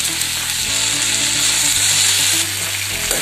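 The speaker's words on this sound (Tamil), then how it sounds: "தேங்காயையும் ஆட் பண்ணி நல்லா வதக்கிக்கலாம்." Chopped tomato and grated coconut sizzle loudly in a hot pan while being stirred, a dense continuous frying hiss with scraping of the spatula, close and without talk.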